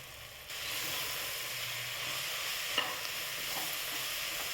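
Steady sizzling and hissing of mushrooms sautéing in a pan, with faint stirring scrapes, close and continuous.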